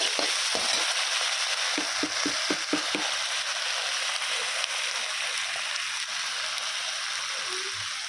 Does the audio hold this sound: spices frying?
yes